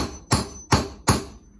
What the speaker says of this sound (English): Once the nail gets in a certain level, keep hammering.